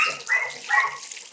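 Water is poured over a dog during a bath at home, making a close, continuous splashing trickle that swells and fades in small surges.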